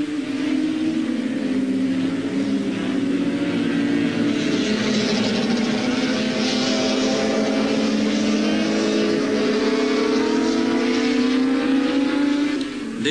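Racing motorcycles at Daytona speedway, the fastest motorcycle track, where speeds reach about 290 km/h. A loud, steady engine howl fills the whole stretch, with pitch bands sliding up and down as the bikes pass and shift.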